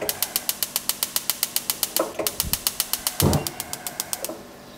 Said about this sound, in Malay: Okey, saya cuba hidupkan gas ni.